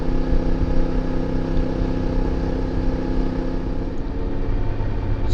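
A CF Moto 450MT motorcycle climbing mountain roads, its engine humming steadily and loudly with a constant drone and slight variations in pitch, up close with no voices.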